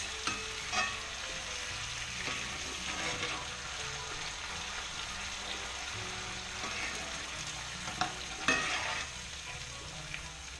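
A spoon stirs and scrapes browned bits from the bottom of a pot of arroz con pollo sofrito with sauce, producing steady sizzling and scraping with a few sharper knocks near the end.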